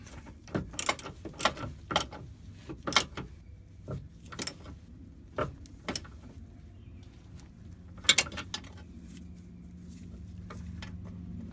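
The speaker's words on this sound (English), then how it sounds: "I'm going to do the upper end link bolt on passenger side." Upper sway bar end link bolt on the passenger side of a Subaru WRX being tightened with a ratchet, a series of sharp metallic clicks and taps at an uneven pace, close up, ending in a steadier low mechanical hum.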